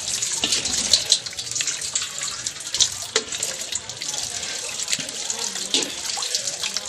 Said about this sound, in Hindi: लेकिन फिर भी कपड़े तो धोने हैं